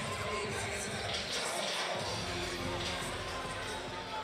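Hometown crowd noise at an MMA fight night in Kansas City, a steady wash of chatter and cheering that fills the arena, with an announcer's voice over it.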